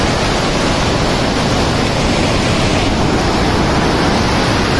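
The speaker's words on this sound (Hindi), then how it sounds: "हेमकुंड साहिब से ये झरना आ रहा है" A mountain waterfall fed from Hemkund Sahib on the trek from Govindghat roars close and loud as a dense, unbroken broadband rush, with no voices over it.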